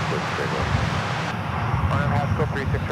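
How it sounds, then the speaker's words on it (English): An airliner arriving from Los Cabos, Mexico, touches down at DFW Airport, a steady broadband jet roar running through the whole moment while voices talk over it. "Right behind it is a flight coming in from Los Cabos in Mexico, just touching down."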